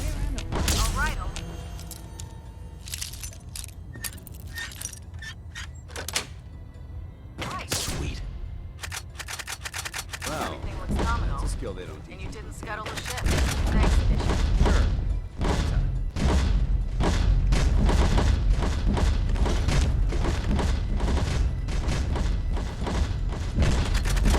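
Gunfire in the video game Fallout 4: a dense run of sharp shots and booming thuds, loud and close, sparse at first and then near continuous in the second half, with voices talking over it.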